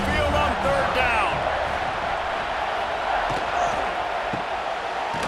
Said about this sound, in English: The Tide crowd rolling noise down onto Saban Field on third down